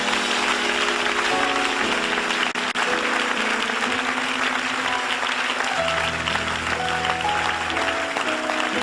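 A church congregation applauds steadily and loudly throughout, a dense wash of clapping with sustained musical tones from an organ or keyboard underneath.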